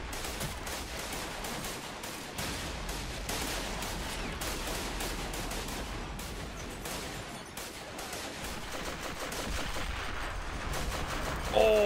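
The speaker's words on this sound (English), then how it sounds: "Can I hear a Hotchkiss back here? Yeah. He's just slanging rounds." A Hotchkiss machine gun firing in a WWI trench-fighting game at Bois-le-Prêtre: sustained rapid bursts of gunfire mixed with scattered rifle shots and distant battlefield rumble, dense and continuous throughout.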